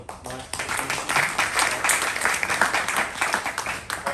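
An audience at a cloud-computing user group meeting gives a speaker a round of applause. Steady, moderately loud clapping from many hands continues throughout.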